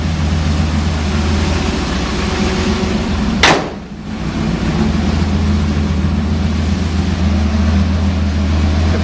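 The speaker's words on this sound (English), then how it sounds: "It's like the blower sound." A supercharged 1965 Chevrolet Nova engine idles with a steady droning blower whine and a low exhaust rumble, broken once by a brief sharp burst before the even tone resumes.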